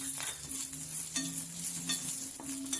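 Red chillies frying in a pan, a constant soft sizzle broken by a few scraping stirs of a spatula, close and with no voices.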